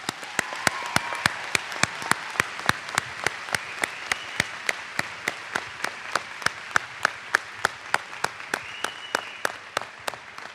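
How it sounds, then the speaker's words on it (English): Applause at a college commencement ceremony: a continuous wash of many hands clapping in a large hall, with one close, sharp clap repeating at a steady, regular beat over about ten seconds. "Please join me in applauding their contributions."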